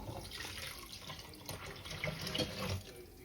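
A rice flour and water mixture is poured into a pan for turnip cake, making a faint, steady liquid trickle and splash without pause.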